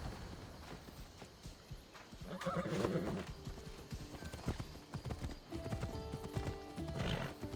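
Horse hooves clip-clopping at a steady walking rhythm while riding in the video game Assassin's Creed Odyssey, with occasional neighs and whinnies and ambient outdoor game sound, no talk over it.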